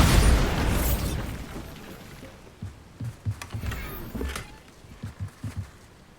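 A Bombarda spell explosion in the Hogwarts Legacy video game erupts as a loud, booming blast at the outset and slowly rumbles away, followed by a scattering of quieter thuds and knocks.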